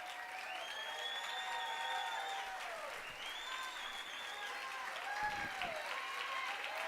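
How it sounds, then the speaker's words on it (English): An awards-celebration crowd cheers and claps in a continuous roar, with several voices whooping and tonal shouts rising above the steady applause. "I think I hear a cheer."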